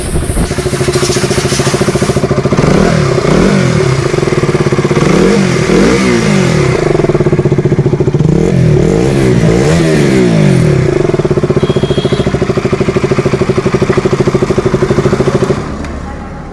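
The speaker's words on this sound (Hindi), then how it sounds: "फाइनली इसमें टाइमिंग चेन अभी डाल दी है मैंने, और गाड़ी कर दी है स्टार्ट" A KTM 200cc motorcycle engine idling after a timing chain replacement, running loud and close with a steady mechanical drone and several short throttle blips rising and falling in pitch.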